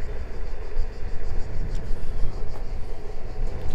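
A Niu KQi2 Pro electric scooter rolls along at 25 km/h, giving a steady, close rumble of wheels and wind noise with no breaks.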